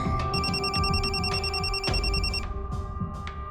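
Electronic telephone ring repeating in a steady trilling pattern, heard over a speakerphone in an indoor scene for a crime drama, fairly loud and close with no voices over it.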